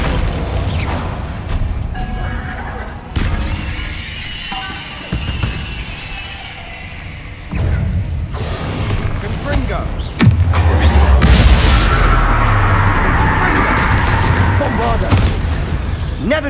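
Confringo fire spells bursting in the game Hogwarts Legacy, a series of loud booming blasts and crackling impacts over a busy game soundtrack, with a voice casting spells between them.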